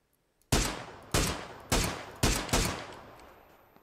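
Five sharp, loud gunshots from a video game ring out at irregular intervals, each with a short decaying tail and no talk over them.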